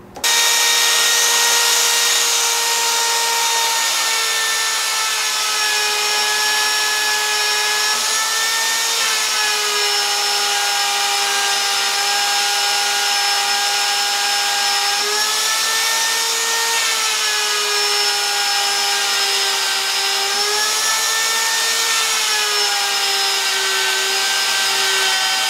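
A VEVOR D8840 variable-speed magnetic drill with a sliding head boring a half-inch hole in steel, a loud close whine running steadily for about 25 seconds with slight pitch dips as it loads.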